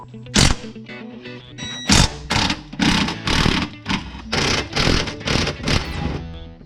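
Transmission mount nuts come off a Porsche 996 with a power tool, heard as a series of loud, close ratcheting bursts in an irregular rhythm over about seven seconds, with no talk.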